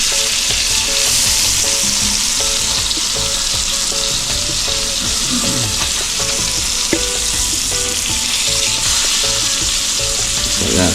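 Jamaican jerk grouper fillets frying in butter in a pan, a steady close sizzle and crackle with occasional scraping from stirring, continuous and alone with no talk.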